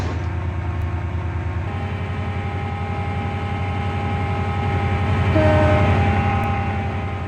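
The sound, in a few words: passenger train passing in a video game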